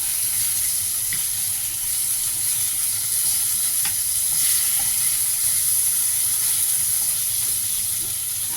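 Garlic fries in a pan with a steady, bright, close sizzle and hiss, continuous throughout with faint crackles and no talking.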